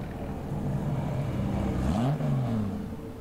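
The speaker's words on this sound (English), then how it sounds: "Oh, there's some muscle cars." A muscle car at a race event revs its engine, the pitch climbing and sweeping upward then falling away in a short burst, heard at a moderate distance over steady crowd and background noise.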